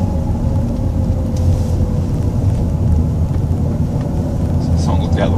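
A Lexus IS200 with an aftermarket exhaust drones loud and close from inside the cabin as the driver drops to second gear, a deep steady rumble with a few light clicks near the end.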